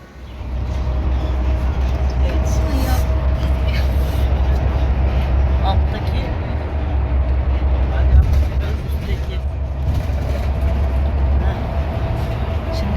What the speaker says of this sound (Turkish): İyi metrobüsteyiz.